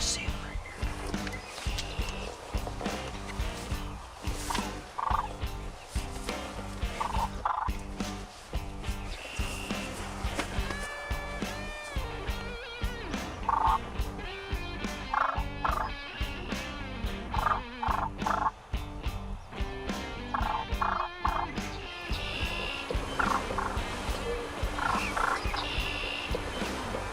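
A wild turkey gobbles repeatedly in the woods, loud rattling calls recurring many times at irregular intervals, with soft voices speaking quietly between them.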